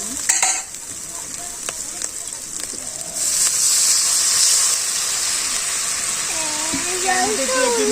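Food sizzles loudly in a hot pan, and the hiss surges as water is poured in; a voice speaks briefly under the frying.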